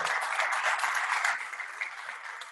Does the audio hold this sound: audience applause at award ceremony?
yes